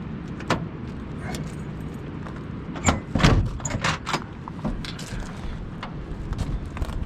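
A large bunch of keys for an old Ford F pickup truck jangles and clinks up close, with a brief louder rattle midway and steady metallic shaking throughout.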